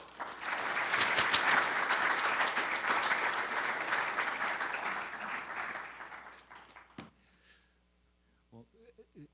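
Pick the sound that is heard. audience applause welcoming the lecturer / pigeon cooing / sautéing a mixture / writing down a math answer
audience applause welcoming the lecturer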